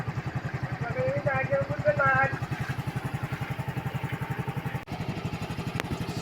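A motorcycle that was flooded and then kick-started idles close by with a steady, rapid put-put pulse throughout, while someone talks over the first couple of seconds.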